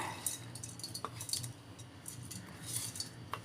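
Fried onion and green chilli being mixed into idli batter with a spoon, giving soft squishy stirring with a few light clinks of utensil against the bowl, close and fairly quiet.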